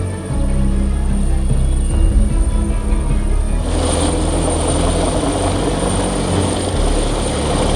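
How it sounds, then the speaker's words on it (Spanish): A rescue helicopter hovers a few boat lengths from a sailboat at about 20 metres up, its rotor giving a loud, continuous roar and thrum that swells as the downwash noise sweeps in, with no voices. "El ruido cuando el helicóptero estaba junto a nosotros era impresionante."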